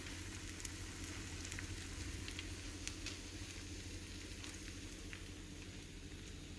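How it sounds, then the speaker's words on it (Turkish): Soft, steady sizzling of kadayif frying in oil in a pan over low heat, with a faint crackle and pop now and then, fairly quiet and with no voices. "Ve kısık ayarda kadayıfımızın altını ve üzerini güzelce kızartacağız."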